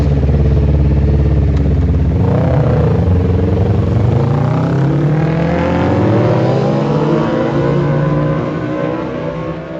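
A motorcycle engine roars loudly and steadily, its pitch dipping then climbing as it revs and accelerates, with no voices over it.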